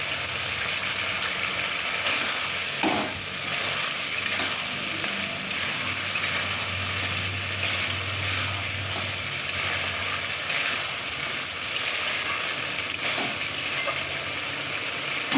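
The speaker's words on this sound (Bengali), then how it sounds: "এবার আমি ডিম ছেড়ে দিচ্ছি।" Eggs frying in spiced oil for a Bengali egg curry give a steady broadband sizzle that runs the whole time, moderately loud, with a few faint clinks and no voices.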